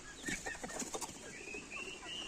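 Hens on a Ukrainian poultry farm cluck and chatter in short, quiet bursts, with other birds calling faintly in the background.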